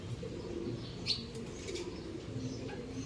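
Pigeons, sparrows and mynas gather at a home balcony, with one brief burst of wing flapping, soft cooing and scattered chirps over a quiet background.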